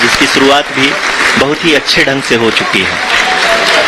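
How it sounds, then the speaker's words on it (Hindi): Applause from the audience in the mission control hall during the live Chandrayaan-3 Vikram lander descent broadcast, a steady clapping wash running under continuous Hindi commentary. "Lot of applause indicates that till now the performance has been nominal."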